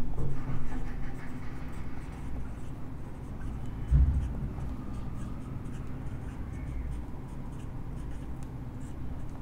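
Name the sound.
writing by hand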